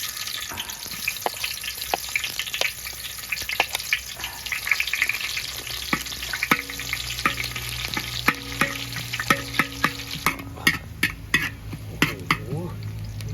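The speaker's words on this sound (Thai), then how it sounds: "น้ำมันร้อนแล้วใส่หอมหัวใหญ่ลงไปแล้วนะครับผม" Sliced onion sizzles in hot oil in a pan, a close, steady crackling fry broken by sharp scrapes and clinks of a spatula stirring, with a voice talking over it in places.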